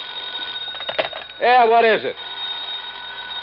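An old-fashioned telephone bell rings in one short, loud burst, and a voice is heard just before it.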